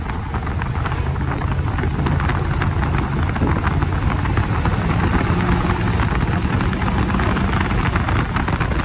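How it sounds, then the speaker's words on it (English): A 1938 Chevy engine runs steadily and then accelerates, a loud, continuous mechanical drone heard up close with no pauses. "But now it's all engine. It accelerates good, no hesitations."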